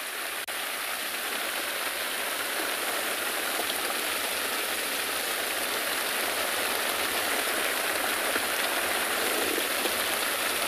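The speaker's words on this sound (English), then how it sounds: "Can you hear this wonderful rain?" Steady rain pours down during an afternoon safari in South Africa, a dense, even hiss of drops on surfaces that continues unbroken and fairly loud throughout.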